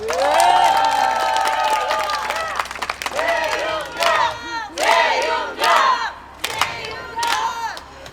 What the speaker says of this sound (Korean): 박수 한번 치주십시오